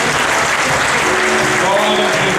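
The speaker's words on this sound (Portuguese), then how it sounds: "Você pode aplaudir o Senhor?" A loud, dense wall of applause fills a church worship service, steady and continuous from a large congregation, with a faint voice underneath.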